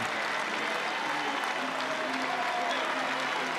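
A Chapel Hill baseball crowd at an NCAA championship game between North Carolina and Arizona gives a sustained ovation, steady dense clapping from a large stadium audience heard at a distance.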